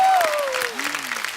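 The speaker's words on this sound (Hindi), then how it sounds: "तो एक बार जोरदार तालियां नीतू जी के लिए और रिद्धिमा के लिए" A studio audience bursts into applause for Neetu and Riddhima on a comedy talk show, a short, full wash of clapping that tapers slightly, with a voice sliding underneath.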